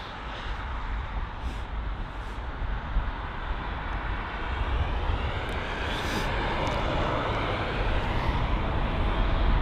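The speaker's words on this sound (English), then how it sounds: "we've got another arrival, the United 767-300 arriving from New York EWR" United 767-300 airliner arriving at London Heathrow from New York, a steady jet engine roar that slowly swells as the aircraft approaches, with a constant broadband rumble and no talk.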